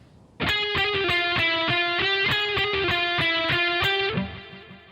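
Distorted electric guitar plays a fast repetitive lick, picked notes in a steady, loud rhythm with no talking, ending with a softer ringing tail.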